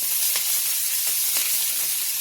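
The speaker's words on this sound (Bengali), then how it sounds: "তো এখন এখানে ক্যাপসিকামগুলো ভাজার জন্য দিয়ে দিয়েছি" Capsicum (bell peppers) frying in oil in a pan give off a steady, close broadband sizzle and hiss with a few faint crackles, continuous throughout and with no voices.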